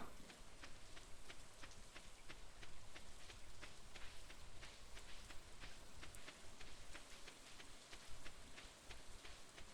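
Steady rain in the video game Stardew Valley, a constant dense patter with fine drop ticks throughout, fairly faint and even, with no talk over it.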